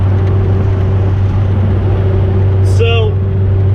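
A 1986 Bertone X1/9, a mid-engine Italian sports car, holds a steady, low engine drone with a strong rumbling hum. A voice talks over it throughout, and near the end a brief rising whine breaks through.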